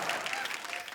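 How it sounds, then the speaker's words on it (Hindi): An awards-show audience applauding, a brief burst of dense clapping at moderate distance with voices mixed in. "सर के जोरदार तालियां"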